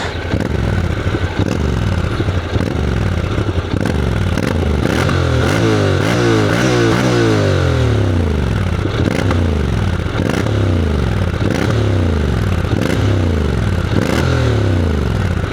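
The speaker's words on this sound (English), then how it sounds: "Let's hear the exhaust for a bit." Motorcycle exhaust on a test ride, a loud close engine revving repeatedly in rising and falling sweeps, rattling and burbling between throttle blips, with no talk over it.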